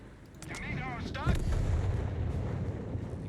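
StuG assault gun firing in Company of Heroes 3 at point-blank range: one heavy booming blast with a rumbling tail, amid game battle noise.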